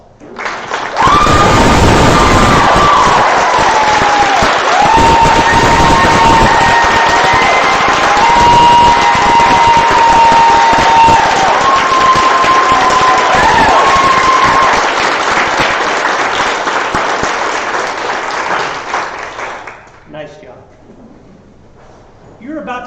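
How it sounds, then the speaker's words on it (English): Sustained applause and cheering from a large graduate school commencement audience, loud and dense for nearly twenty seconds, with a voice and some tonal sound riding over it before it fades out. "let's give them a round of applause"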